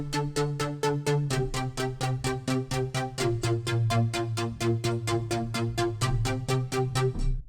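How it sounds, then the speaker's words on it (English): A Pad Omni rolling chord synth pulses chords in rapid, even repeats, roughly four per second, with a bright, rich tone as the harmony shifts every second or so. It plays alone at moderate loudness. "rolling chord synth which sounds like this."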